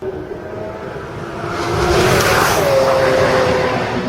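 A low-slung Lamborghini approaches and sweeps past outdoors, its engine swelling from a distant hum to a loud, close roar with a falling pitch, then holding steady as it moves away.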